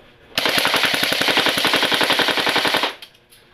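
A Golden Eagle M16 airsoft electric gun fires one full-auto burst lasting about two and a half seconds, a rapid, even mechanical rattle heard close and loud, with no speech.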